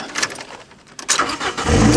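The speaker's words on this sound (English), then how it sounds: "if you've got the car running" A Saturn car engine cranks and catches, then settles into a loud, steady idle after a brief jingle of keys.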